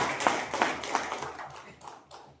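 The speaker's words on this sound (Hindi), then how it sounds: "मैं चाहूंगा एक जोरदार ताली इसके लिए" An audience claps in short, uneven bursts that swell and fade over a couple of seconds, with no voice heard over it.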